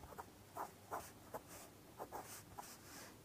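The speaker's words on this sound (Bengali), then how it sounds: "একটু এই পাশ থেকে লিখি" A pen scratches across paper in short, intermittent strokes while working through an algebra solution, faint and close, with brief pauses between the marks.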